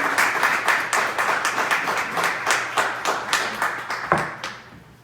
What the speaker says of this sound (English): Clap a little more.